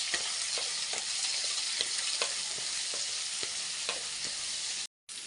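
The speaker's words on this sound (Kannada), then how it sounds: "ಚೆನ್ನಾಗಿ ಫ್ರೈ ಆಗಬೇಕು." Onions frying in a pan for chutney give a steady, close sizzle, with regular scraping stirs roughly every half second, then stop suddenly near the end.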